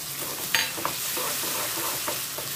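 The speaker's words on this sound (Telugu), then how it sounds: "టొమాటో ముక్కలు కూడా వేస్తున్నానండి." Tomato pieces frying in a pan for a tamarind stew, with a steady bright sizzle and a few soft scraping stirs of the spoon, close and continuous, with no talking.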